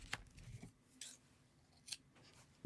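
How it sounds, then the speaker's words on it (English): Scissors cutting yarn after crocheting a pinwheel washcloth, a few quiet crisp snips close by in a hushed room. "and cut my yarn"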